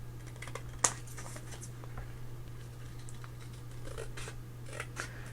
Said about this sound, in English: So I'm just going to trim that up a little bit off to the side here.